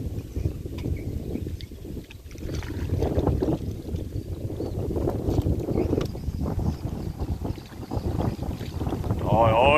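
Strong sea wind buffets the microphone aboard a ferry crossing from Ba Tri to Thanh Phu in Ben Tre, a loud gusty rumble with boat and water noise beneath.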